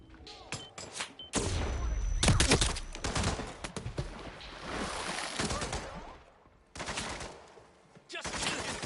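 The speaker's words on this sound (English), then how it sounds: "That was a gunshot." Bursts of rapid gunfire erupt in several loud volleys separated by brief quieter gaps, with harsh crackling blasts filling the space.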